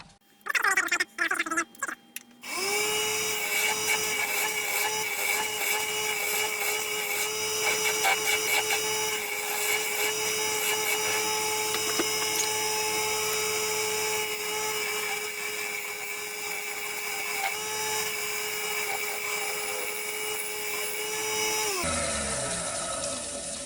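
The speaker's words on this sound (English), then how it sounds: "You get a nice finish with a good sharp skew chisel." An ash lidded box spins on a wood lathe while a sharp skew chisel cuts it, giving a continuous loud whine and hiss with a steady tone for about twenty seconds before the lathe winds down.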